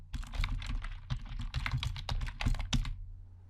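Rapid keystrokes on a computer keyboard while a file name is typed, a steady run of close, clicky taps over a low hum, stopping just before the end.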